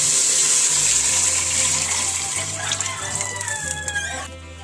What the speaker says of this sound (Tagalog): Yan, lalagyan na natin ng tubig.